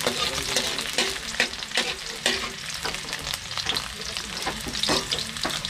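Chili being fried and stirred in a pan with crab, a steady close sizzle of hot oil broken by repeated scraping stirs of the spatula, with no talk over it.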